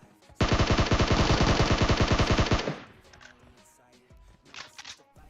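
Automatic rifle fire in PUBG, a loud, close sustained burst of rapid rhythmic shots lasting about two seconds, then fading into quieter scattered game sounds.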